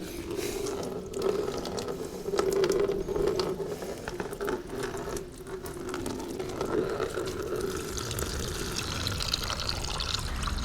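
Coolant drains from the opened radiator of a Kawasaki Z900 motorcycle, a steady close pouring and splashing of liquid with some clicks and knocks from tools or parts.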